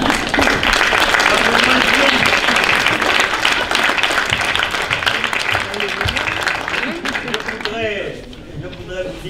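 Loud, dense applause from an audience fills the room and goes on for several seconds, then thins out as a voice begins speaking near the end.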